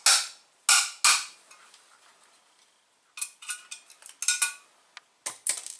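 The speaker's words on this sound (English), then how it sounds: "I'm going to remove the two small knockouts on the side of the electrical box." Small metal knockouts are twisted out of the side of a metal electrical box, giving sharp close clanks and clicks: a few isolated hits, then a quiet pause, then a quicker cluster of light metallic snaps.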